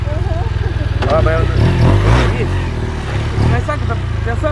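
A motorcycle idles close by with a steady low throbbing rumble that continues throughout while people talk over it.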